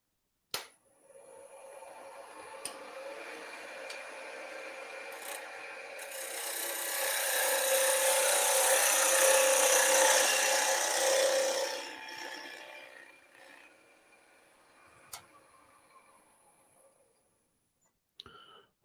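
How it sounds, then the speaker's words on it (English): Woodturning gouge cutting Osage orange on a lathe, a continuous rasping shave that swells louder in the middle and fades, with a few sharp clicks and taps at start and end. "That Osage orange just cuts so nice."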